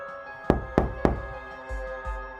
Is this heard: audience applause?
no